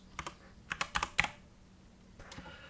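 A handful of crisp keystrokes on a computer keyboard while entering a MySQL replace query, tapped close in an uneven cluster, followed by a short pause and a couple of softer taps.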